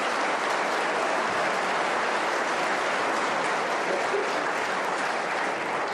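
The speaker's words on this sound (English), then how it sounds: "Waiting for the applause to subside" Sustained audience applause fills a snooker arena after a break of 84 in the 2024 World Snooker Championship, a dense steady roar of many hands clapping at once, loud and continuous without pause.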